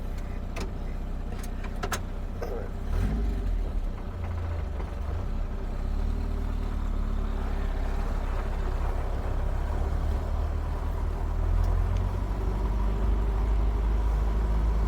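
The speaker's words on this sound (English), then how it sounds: "Engine feels like it's running smooth again" A Ford 100e Anglia's engine runs steadily while the car is driven on gravel after a month parked, a continuous low rumble that holds for the whole stretch with no voices over it.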